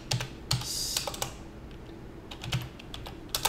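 Keys clack on a computer keyboard in short bursts with pauses between them, close and clear in a quiet room, with no one speaking.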